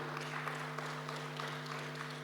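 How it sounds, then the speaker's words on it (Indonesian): Audience applause at a stock exchange listing ceremony, a dense even patter of many hands clapping across a large room over a steady electrical hum. "Mari kita berikan tepuk tangan yang meriah."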